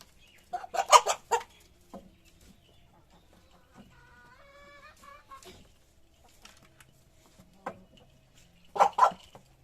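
A chicken clucks loudly and close by in two short bursts, at the start and near the end, with quieter household sounds and soft activity in between.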